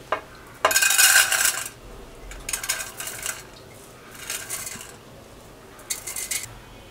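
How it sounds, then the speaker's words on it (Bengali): Washed rice and lentils tipped into a metal pressure cooker on the stove, heard as several loud, close bursts of grainy rattling and clinking against metal, separated by short pauses, with no voices. "এখন সেই চাল এবং ডাল যেটা আমরা ধুয়ে নিলাম সেটা দিয়ে নিচ্ছি।"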